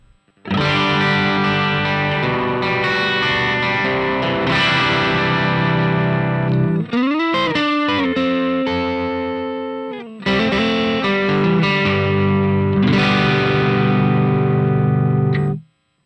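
A distorted electric guitar played through a BOSS OD-3 overdrive pedal plays sustained chords and a few bent notes, loud and continuous with a brief pause, no voices.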